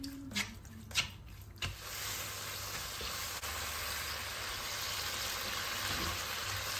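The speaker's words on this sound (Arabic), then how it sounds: "اول حاجه غادي نبدا بها هي الكالامار، غنصوطيه" Calamari seasoned with a sprinkle of salt sautés in a pan, giving a steady, faint sizzle after a few soft knocks at the start.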